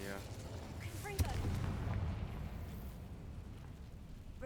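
The Confringo blast spell in Hogwarts Legacy goes off as a single sharp burst, followed by a low, rumbling tail over quiet game ambience.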